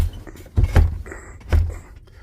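A truck's frozen driver's side door is tugged in winter cold, giving two dull, heavy thuds about a second apart with faint rattling between them.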